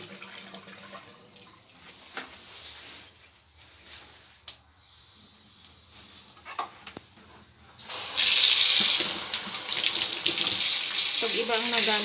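Shower water runs in a home bathroom, starting suddenly partway through as a loud, steady hiss and spray close by, after a stretch of quiet room noise with faint thuds.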